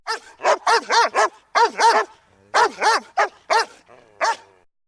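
A dog barks repeatedly in quick bursts of two and three, loud and close, with short pauses between the volleys.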